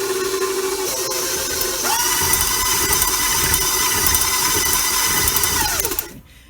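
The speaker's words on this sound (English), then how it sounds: "This mixer is really old," An old KitchenAid stand mixer beats butter with xylitol sweetener, a steady close motor whine with a shift in pitch partway through, running loud and continuous before cutting off near the end.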